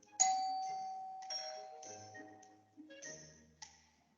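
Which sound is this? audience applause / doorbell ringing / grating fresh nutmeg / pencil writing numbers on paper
doorbell ringing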